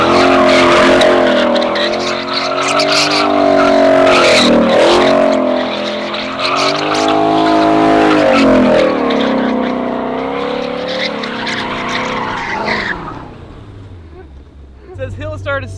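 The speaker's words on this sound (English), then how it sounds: "let's see if we can do a donut like a manual" A 2020 Ford Mustang Shelby GT500 spins through a donut, its engine roaring loud and close while the tires skid and squeal continuously, then the noise drops away sharply near the end.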